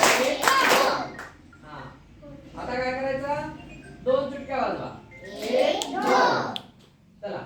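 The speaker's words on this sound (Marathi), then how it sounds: "आता दोन टाळ्या वाजवायच्या आणि एक एक ने दोन टाळ्या वाजवा" Children in a second-grade maths lesson clap their hands in short, sharp bursts near the start, then chatter and talk in high voices for the rest.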